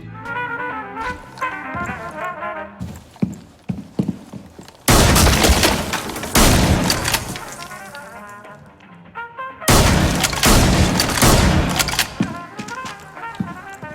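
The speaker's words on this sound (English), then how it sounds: "take a shotgun, blow a hole in the wall" In Rainbow Six Siege, rapid bursts of gunfire and loud blasts from a shotgun blowing a hole in a wall crash amid game sound effects and music, with two dense, heavy stretches of explosive impacts.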